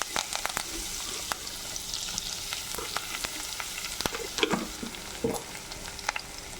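Curry leaves frying in hot oil for Kerala chicken pickle, a steady close crackling sizzle with sharp pops and occasional stirring clicks.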